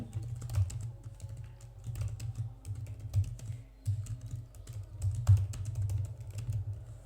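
Fingers type a search into a computer keyboard, light clicking keystrokes in quick irregular bursts with brief pauses, close and dry with no voice over them.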